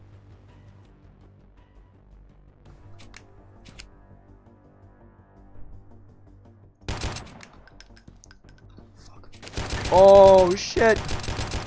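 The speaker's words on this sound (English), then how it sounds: "I have to be careful though, I gotta conserve ammo in terms of, because I don't have much of it for a machine gun" Automatic machine gun fire in the Freeman Guerrilla Warfare video game, with loud sustained bursts late on, after a quieter stretch of ambient game sound, plus a brief startled exclamation.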